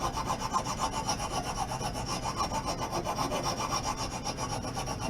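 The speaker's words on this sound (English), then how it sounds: "It was really coarse, or a rasp, and this is a finer side. I'm using the coarse side first." The coarse side of a rasp files wood on a broken table leg in quick, even back-and-forth strokes, a loud, close, rhythmic scratching with no talk.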